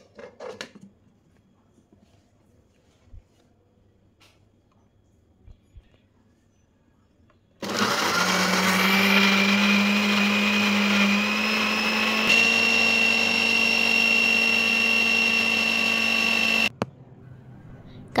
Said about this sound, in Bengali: এদিকে আমি ব্লেন্ডার করে নিব কাঁচামরিচ।